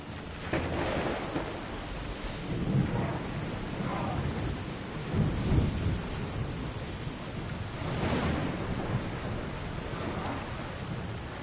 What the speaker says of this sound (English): Storm ahead!